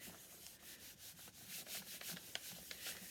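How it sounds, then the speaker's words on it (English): Paper is rubbed hard over an inked butterfly stamp, a quiet rapid back-and-forth scratchy rubbing that repeats steadily for a few seconds with no talking. "Just rub it really, really good so that we get a good inking."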